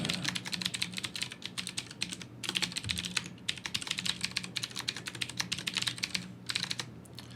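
Rapid keystrokes on a computer keyboard as a username is typed into a sign-up form for a self-hosted Pinterest clone, steady irregular clicking in bursts with brief pauses, close and clear over a low background hum.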